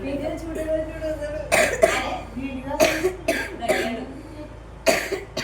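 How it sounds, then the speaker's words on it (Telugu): A boy coughs in a few sharp, close bursts spaced about a second apart, with quieter breathing and throat sounds between them indoors. "అన్న దగ్గుతున్నాడు సిరప్ అయ్యి"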